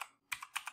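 Code is typed on a computer keyboard: a handful of quiet, close, crisp key clicks in an uneven rhythm, alone in a silent room.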